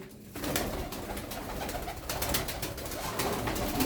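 Soft pigeon coos repeat in the background over a faint, rustling outdoor ambience, with no voices.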